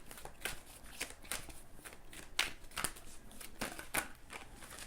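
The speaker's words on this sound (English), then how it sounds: "I'm going to pull from this Oracle deck for Taurus" An oracle card deck being shuffled by hand, soft papery riffles and slides in an uneven rhythm, close and quiet.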